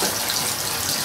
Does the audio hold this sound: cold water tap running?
yes